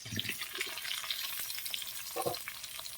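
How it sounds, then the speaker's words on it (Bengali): Potatoes fry in oil left over from frying eggs, crackling and sizzling steadily up close, with a few louder spatters and stirring scrapes. "ওই ডিমের তেলে আমি আলুটা ভেজে নেব"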